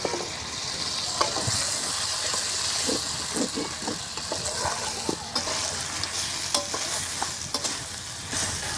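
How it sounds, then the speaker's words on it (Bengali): Mutton keema sizzles and hisses loudly in a pan with a little water, and a spatula scrapes and stirs it in repeated strokes, heard close up. "মাটন কিমাগুলো ভালোভাবে কষে নিতে হবে।"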